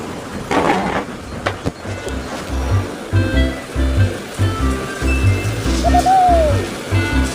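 A toy train chugs in a steady, loud mechanical rhythm, with a short rising whistle near the end.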